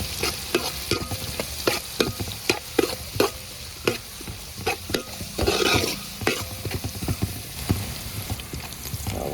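Onion, garlic, ginger and green chilli sauté in a pan for a chicken parts roast, a constant oil sizzle broken by regular, sharp spatula scrapes and knocks that come every half second or so, close and fairly loud.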